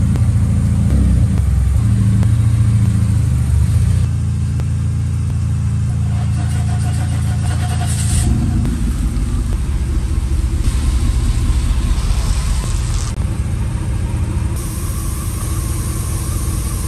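A 1991 Mercedes 500SL R129 V8 engine runs steadily nearby, idling with a low rumble and shifting pitch as it revs slightly, continuous throughout without talk.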